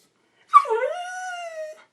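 A single drawn-out dog whimper rises as a short yip and then slides into a long, steady whine, close and clear against silence.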